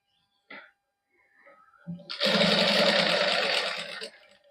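A sewing machine runs in one steady burst of about two seconds, stitching lace onto the neckline of a suit, close and moderately loud after a few faint handling taps.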